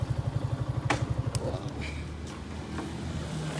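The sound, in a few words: motorcycles arriving on tour at Sajek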